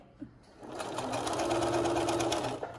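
Sewing machine stitching ric rac trim, a steady whirring run of needle strokes starting after a brief pause and continuing at an even pace, close and clear.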